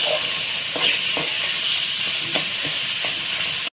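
Tomatoes sautéing in a pan with a little salt while cooking poha, giving a steady close sizzle and hiss with a few soft stirring clinks scattered throughout.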